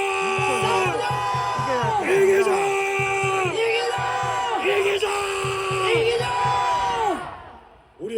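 A rally crowd at Dongdaegu Station in Daegu shouts in unison, rising and falling chant-like yells with a rhythmic pounding beat beneath, loud and sustained before dropping away at the end.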